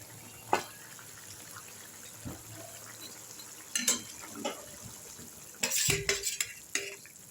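Fried pabda fish pieces added one by one to a boiling curry, with sparse, sharp clinks and scraping handling sounds, some close together, over a quiet simmering background and no voices.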